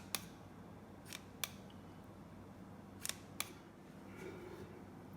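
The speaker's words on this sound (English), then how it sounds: "I'm going to cut a few ends here." Scissors snipping the ends of tutu fabric, a handful of crisp, quiet, isolated clicks spaced irregularly over a low hushed background.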